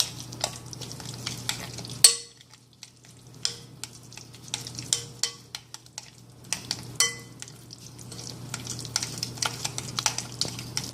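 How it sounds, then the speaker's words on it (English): Dry mixture being stirred into a 15-ounce can's worth of pure pumpkin for pumpkin pie, a soft, steady scraping and swishing of spoon through thick batter, close and continuous with a few sharper clicks, no talking. "adding the dry mixture from earlier and stirring that in"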